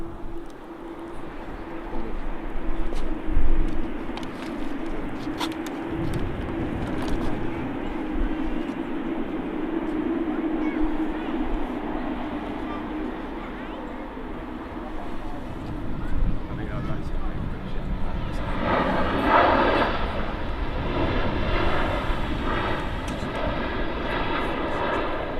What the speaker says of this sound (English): Ryanair on final.